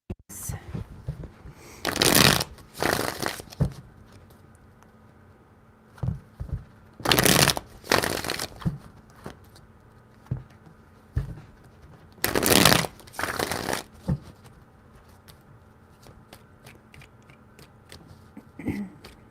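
Tarot cards are riffled and shuffled in three loud, crisp bursts, each a quick flurry of flapping card edges followed by softer handling and quiet pauses between.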